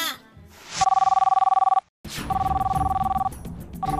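A telephone rings close by in two bursts of rapid electronic trilling with a short silent gap between them, loud and clear over a little background noise.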